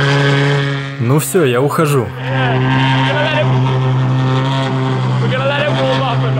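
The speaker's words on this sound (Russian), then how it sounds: "мы послушаем и эту машину с полностью переделанным выхлопом" Novitec Ferrari 812 N-Largo with a fully reworked exhaust, idling loud and steady after a sharp revving burst near the start, heard from a distance while someone speaks over it.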